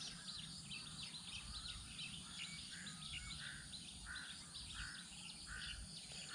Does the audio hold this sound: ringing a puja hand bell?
no